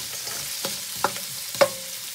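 A duck curry base sautés in a pan, a soft sizzle broken by a few sharp scraping stirs and clinks, close and quiet with no voices.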